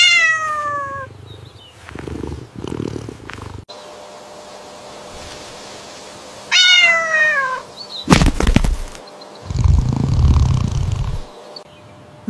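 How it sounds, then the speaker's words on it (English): A cat meows several times with rising and falling cries, close and clear, alongside bursts of other animal noise and some rumbling sounds between the calls. "Oh, this is a cute cat."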